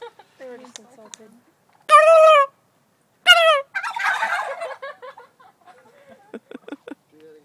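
Turkeys gobbling loudly in two bursts, separated by quieter clucks and people talking nearby.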